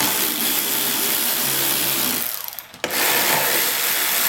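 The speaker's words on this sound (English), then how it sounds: "We're going to need an 8mm socket to get these off." Power tool or ratcheting tool driving an 8mm socket on thermostat housing bolts of a 2006 GMC Envoy Denali 5.3 liter V8; steady close whirring mechanical noise, briefly dropping off before resuming.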